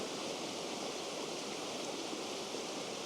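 A waterfall on a stream roars as a steady, even rush of falling water, constant and fairly close, with no voices over it.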